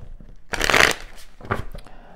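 Tarot cards riffle-shuffled and handled in two quick bursts, a loud crisp flutter followed by a shorter softer one, close up with no talking.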